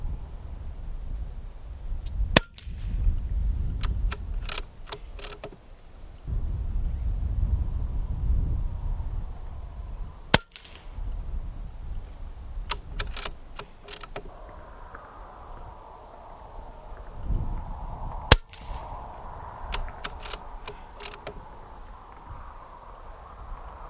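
Hatsan BT65 Carnivore .30 caliber air rifle fired in the field, three sharp cracks several seconds apart, each followed by faint clicks of the action, over wind and light outdoor rustling.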